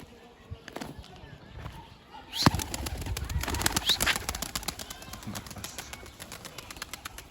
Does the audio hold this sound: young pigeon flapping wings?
yes